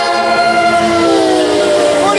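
A New Jersey Transit locomotive blows its horn on the Conrail Lehigh Line, one loud, sustained, multi-tone chord held close by for the whole stretch.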